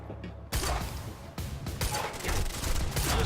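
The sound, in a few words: gunfire in the video game Quantum Break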